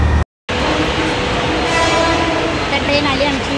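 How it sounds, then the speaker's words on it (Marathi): A Virar local train arrives at a station with a loud, close, continuous rumble, briefly cut out near the start, with people speaking over it. "ट्रेन आली आमची."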